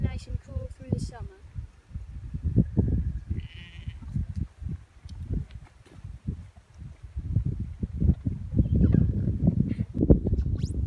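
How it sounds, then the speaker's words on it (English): Ewes bleat repeatedly on a windy sheep farm, their calls rising over heavy gusting wind noise, with a few short voices in the background. "These are the mummy sheep. They are called ewes."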